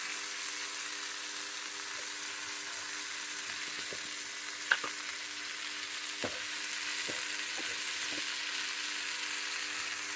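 Cumin, turmeric and salt fry in a pan, a faint, even sizzle running steadily with scattered small clicks and scrapes, one slightly sharper knock near the middle.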